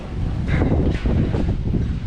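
Steady outdoor wind in a riverside town, rushing as a continuous near roar of broadband noise with mild gusting swells, no voices over it.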